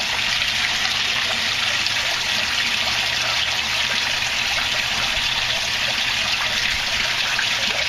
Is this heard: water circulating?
yes